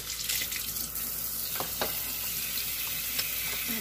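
Food being rinsed under running kitchen tap water for sancocho prep, a steady close hiss of water with a few light splashes and clinks.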